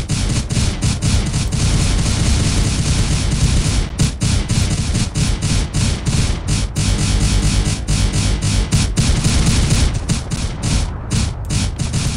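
Rapid automated turret gunfire in Space Engineers, sustained dense bursts with mechanical clatter running continuously and loud throughout, with brief gaps near the end.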